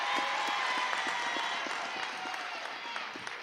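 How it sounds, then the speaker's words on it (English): Moderate audience applause at a high school graduation ceremony, with individual claps audible in a steady patter beneath a faint background voice, holding even for several seconds. "Let's give Haley a round of applause."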